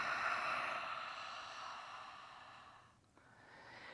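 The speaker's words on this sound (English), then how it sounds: "Inhale through the nose. Exhale through the mouth." Slow, soft breathing drawn in through the nose and let out through the mouth during a yoga flow, faint and airy with a quiet breath-out near the end, no voice over it.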